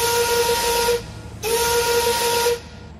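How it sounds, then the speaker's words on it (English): An old steam locomotive whistle blows two loud, steady hissing blasts, the first about a second long and the second slightly longer, separated by a brief gap. "an old steam whistle sounded out"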